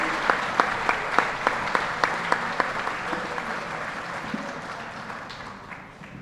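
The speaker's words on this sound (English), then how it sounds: "We have another round of applause" An audience clapping at a high school senior awards assembly in a large hall, dense sustained applause with a few sharp nearby claps standing out, gradually fading toward the end.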